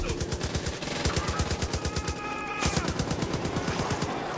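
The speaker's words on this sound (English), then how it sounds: "I'm taking heavy fire" Rapid automatic gunfire rattles through a Far Cry 5 firefight, a loud, tightly spaced stream of shots that runs almost without a break, close up and with no talking.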